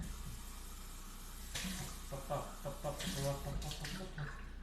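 Tap water runs steadily into a sink while a cup is rinsed out, a continuous broadband wash with some clinks and a voice speaking faintly in the background.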